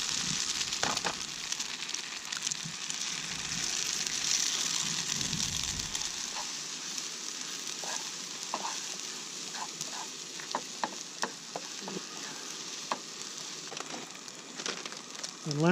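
Eggs sizzle steadily in a hot pan at a campsite breakfast, a continuous close frying hiss with scattered pops and crackles and occasional clinks of a utensil.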